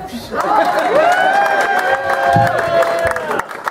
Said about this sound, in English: Give it up. Come on. That means clap.